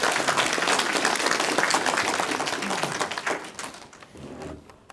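An audience at a provincial governor's briefing session in Jecheon claps in a dense, lively burst that thins and tapers off toward the end.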